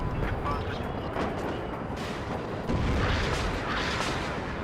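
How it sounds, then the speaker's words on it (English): Artillery fire from M109 howitzers rains down in the WARNO real-time strategy battle, a dense rumbling barrage of overlapping booms and blasts that rolls on steadily at moderate loudness throughout. "You guys see the artillery coming in."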